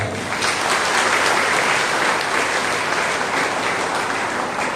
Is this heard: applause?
yes